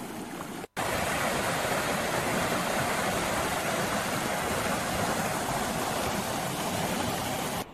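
A babbling stream in the Elan Valley, Wales, gives a loud, steady rush of water close by, with one brief dropout near the start and no voices.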